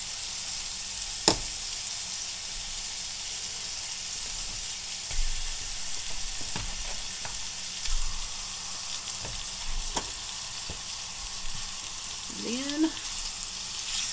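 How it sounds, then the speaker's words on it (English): Pork chops fry in a hot skillet with a steady, bright sizzle, interrupted by occasional scrapes and clacks of stirring, and a brief spoken word near the end. "I'm going to get these tossed up in the skillet. You want to cook these until they are done."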